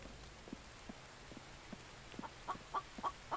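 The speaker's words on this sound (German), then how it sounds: "Da ist auch ein Huhn. Überall Hühner." Chickens in the survival video game Infected, several short clucks that grow louder toward the end over a faint, rain-like background hiss.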